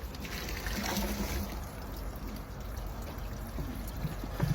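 Slurry water pours and trickles steadily through a filter bag into a bucket for a few seconds, a soft continuous wash of liquid draining through with no voices.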